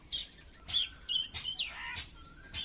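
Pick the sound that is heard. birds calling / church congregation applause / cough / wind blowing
birds calling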